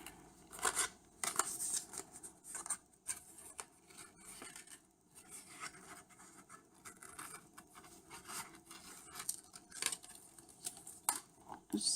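Scissors cutting a circle out of paper, up close: a long run of soft, irregular snips and rustles of paper with no speech.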